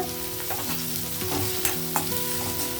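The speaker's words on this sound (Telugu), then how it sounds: "ఆయిల్ హీట్ అయిన తర్వాత నేను డైరెక్ట్ ఆనియన్ వేసేస్తాను" Chopped onion sizzling and frying in hot oil in a home kitchen pan for a greens and chickpea curry, with steady crackle, a few stirring scrapes and clear clinks, close and without talk.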